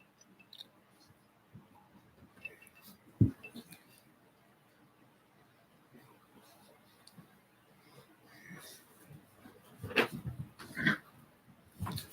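Dogs bark and whimper indoors, with a few short, sharp outbursts standing out against quiet room noise and faint voices.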